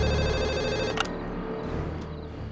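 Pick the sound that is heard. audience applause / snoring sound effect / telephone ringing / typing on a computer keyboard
telephone ringing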